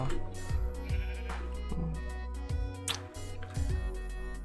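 Minecraft sheep bleat repeatedly over game music, two or three animals sounding in quick succession as loud, close, wavering cries.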